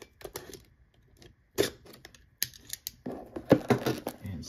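Someone cuts open a 2022 Hit Parade football card mystery box, producing scattered scraping and snipping sounds at close range with short crackling bursts of cardboard and packaging, quiet and alone.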